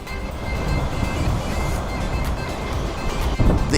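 Big waves roll and break on the Lake Michigan shore on a cold fall day, a loud, continuous low roar and wash with wind, swelling to a heavier crash near the end.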